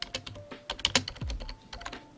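Quick, uneven clatter of keys on a computer keyboard, close and fairly loud, in irregular bursts of keystrokes with no talking.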